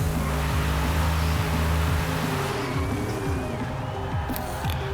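Supercharged car in Forza Horizon 5 doing a long skid burnout, a loud steady engine drone with tyre-screech noise, harmonic engine tones shifting midway, no talking.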